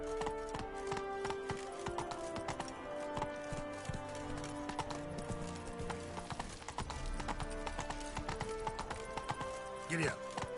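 Roach the horse trotting in The Witcher game, hooves clip-clopping in a steady rhythm over layered game music, with a brief whinny near the end.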